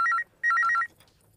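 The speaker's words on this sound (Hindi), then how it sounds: "फोन देखो किसका" A telephone rings in a home during a family birthday scene, two clear electronic trilling bursts close by, the second longer, then quiet.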